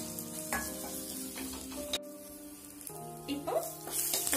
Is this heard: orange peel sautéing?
yes